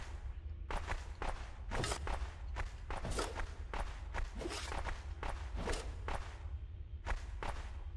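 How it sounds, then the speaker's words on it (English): Steady footsteps in the video game Orebound, a regular run of crisp steps about every half second across the whole stretch, close and fairly loud over a low ambient hum, with no talking. "But I can hear footsteps, so let's get the sword back out."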